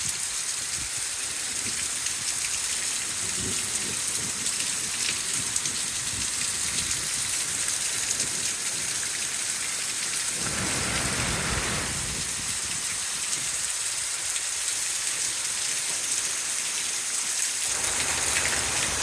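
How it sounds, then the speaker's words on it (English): Heavy rain pouring down outdoors, a loud, steady hiss of dense drops with no talking, swelling briefly into a heavier gush partway through. "That's a lot of rain."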